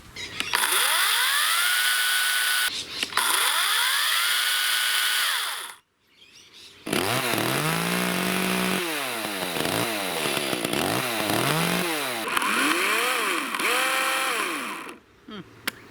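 An Ozito 36V battery chainsaw runs close up, its motor whining and revving up and down repeatedly, with a brief pause before starting again; the chain makes much of the noise.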